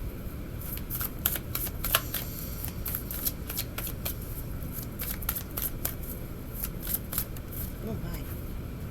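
Tarot cards are shuffled in the hands with rapid, crisp flicks and riffles close up, the papery clicks coming in quick bursts under a voice.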